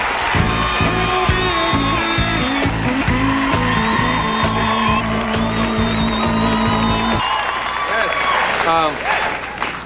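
A studio audience at a 1991 late-night talk show cheers and applauds loudly, rhythmic clapping and whoops filling the room before a voice speaks briefly near the end.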